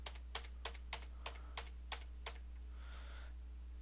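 Computer keyboard keys are pressed in a quick, even series of about eight crisp clicks, close and fairly quiet, followed by a soft brief rustle and low steady room hum.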